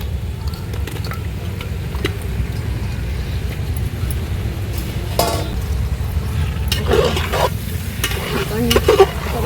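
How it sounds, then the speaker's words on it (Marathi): Chicken pieces sizzle and fry loudly in a hot onion, asafoetida and red masala tempering for village-style biryani, with steady scraping stirs throughout and no voices. "आता आपण चिकन टाकूया."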